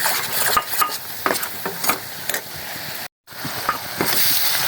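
Frying onions with turmeric and chili powder stirred in a pan, spoon scraping and tapping over a soft sizzle in uneven strokes, with a brief dropout in the middle.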